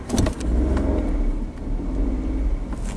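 A car sits in first gear with brake and clutch held on an uphill start while its engine is blipped and held near 2,500 RPM, giving a loud, steady close-up rumble with a couple of quick throttle bursts at the start.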